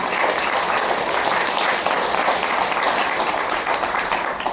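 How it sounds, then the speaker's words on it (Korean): An indoor audience applauds loudly and steadily at the close of a 60th-anniversary talk show held by a Ulsan writers' association, a dense, continuous clapping that fills the whole stretch without pause. "오늘 귀한 이야기 들려주신 5분께 다시 한번 큰 박수 부탁드립니다"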